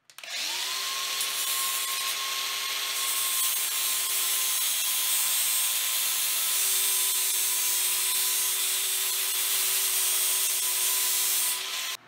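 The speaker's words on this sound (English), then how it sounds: "Okay, I'll show you grinding it down." An angle grinder grinds down a metal screw, a loud, continuous high-pitched whine with harsh grinding noise that holds steady for the whole stretch before cutting off.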